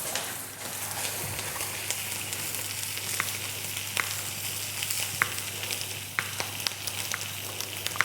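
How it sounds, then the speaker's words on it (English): Leftover jalapeno and cheese sausage pieces fry in a pan with a steady, close sizzle and occasional faint ticks and pops throughout. "Just cutting up the leftovers and frying that."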